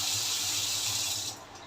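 Tap water in an Indian home rushes in a steady, close hiss as a motor pumps it through, then tapers and thins near the end; no voices.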